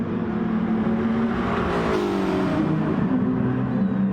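A race car engine in a video game racing championship drones steadily throughout, with a sustained tonal whine that rises and falls slightly as the car carries speed, loud and continuous with no talk.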